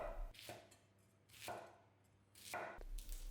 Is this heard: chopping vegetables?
yes